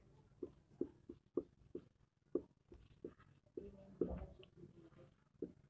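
Writing on a board during a Class 10 physics lesson: a series of short, soft taps and scratches at an irregular, steady pace, quiet and close, with no talking.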